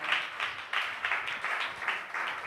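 A congregation claps together in a rhythmic run of roughly a dozen steady, close claps during a Tamil church service, with no talking over it.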